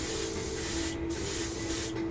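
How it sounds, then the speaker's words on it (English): A paint sprayer gives a test spray while painting a 1/72 scale B-2A Stealth Bomber model kit. It makes a steady, close hiss with a faint tonal whine underneath, broken by two brief pauses. "Do a little test spray."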